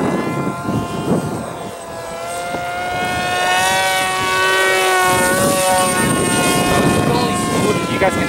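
A Cyberplanes F-117 stealth RC model plane flies overhead, its electric motor giving a steady high whine with rising and falling pitch as it passes, fairly loud and continuous throughout.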